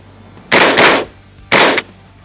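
A Ruger 10/22 rifle gives two short, loud bursts of cracking fire close by, the first slightly longer than the second, separated by a brief pause.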